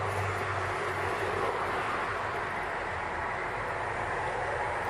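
Metro train at Omonia square in Athens, a steady broad rumble of rolling carriages at moderate distance, continuous throughout with no voices.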